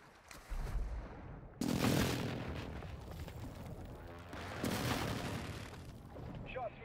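Close air support strike in Warzone 2.0: heavy booming impacts and rolling explosions in two main waves, loud and near, with crackling debris and radio voices over the top.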